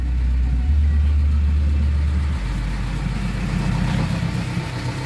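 A noisy Dodge Neon engine idles steadily with a low, even drone and a shift in hum partway through, near and loud, with no voices.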